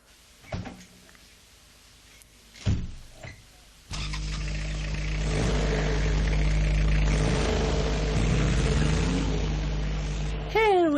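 A car door opens and shuts with a couple of clunks, then an engine starts up and settles into a steady running drone that builds as the car pulls away, with a few faint voices near the end.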